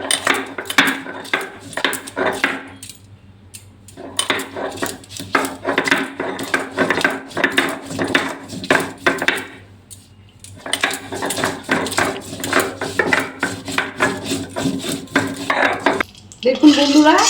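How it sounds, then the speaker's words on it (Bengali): Mustard seeds and ginger are ground into a paste for a rohu fish curry, giving rhythmic, close scraping and rubbing strokes in long runs, broken by two short pauses. "দেখুন বন্ধুরা, আমি এটা বেটে নিচ্ছি।"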